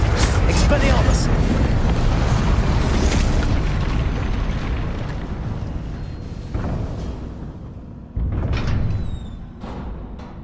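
Expelliarmus spell cast in Hogwarts Legacy: a loud, sustained magical burst and rumble that fades over several seconds, then two shorter whooshing blasts near the end, with a voice shouting over the opening.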